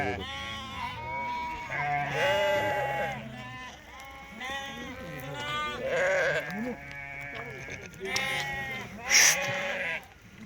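Sheep and young lambs bleat repeatedly at close range, loud overlapping calls coming in bursts across the pen, with someone talking between them.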